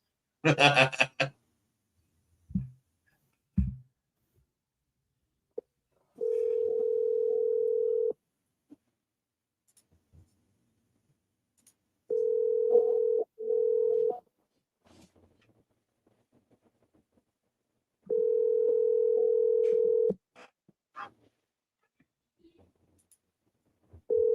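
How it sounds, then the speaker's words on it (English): A steady telephone ringback tone sounds in several long bursts separated by silence while outbound calls are placed to sellers, with a few clicks and short noises between the tones. "I better call them all before RJ does."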